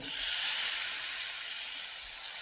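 Washed moth bean sprouts hit a hot pan with turmeric, giving a loud, bright hissing sizzle that starts abruptly and fades slightly over a couple of seconds, with no speech.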